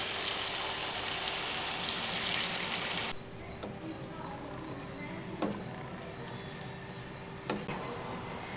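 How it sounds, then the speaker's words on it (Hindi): A steady rushing pour of water into a pot of cooking lentils, broadband and continuous, then quieter sizzling with a few soft clinks. "अब हम इसमें दाल का पानी शामिल कर देते हैं।"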